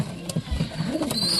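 Pigeons in a loft coo softly in a few short, low calls over a quiet room hum, with a faint brief chirp near the end.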